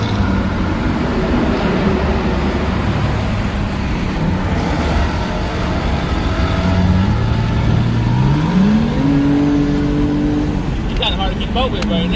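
A 2016 Ford Mustang GT Premium with a loud straight-pipe, X-pipe, resonator-delete exhaust, rumbling steadily and revving up in pitch near the end, loud and continuous with a voice mixed in.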